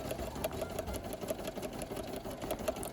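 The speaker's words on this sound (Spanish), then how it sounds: "Así es como realizo mis bordados." Sewing machine embroidering fabric pieces for a laptop case, a rapid, even mechanical stitching rhythm running steadily up close with no talking.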